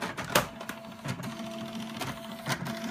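An Apple Portable StyleWriter inkjet printer made by Canon prints, giving a rapid mechanical whir of the moving print head with repeated clicks and clunks, close and alone.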